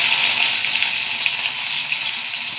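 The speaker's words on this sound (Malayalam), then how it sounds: "എണ്ണ ചൂടാവട്ടെ. കടുക് ഇട്ട് കൊടുക്കുക." Hot coconut oil hisses steadily as mustard seeds and garlic fry in a pan. The sizzle is close and bright, with faint pops and crackles, and no one talks over it.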